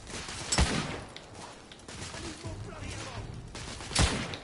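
Blind-fired gunfire in the video game The Order: 1886, a few sharp broadband shots with the loudest bursts near the start and end, set against steady game ambience and some talk.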